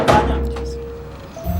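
A single heavy thunk strikes a door, loud and close, then its resonance dies away, with a second softer knock at the very end.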